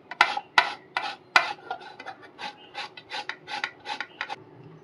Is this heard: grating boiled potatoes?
yes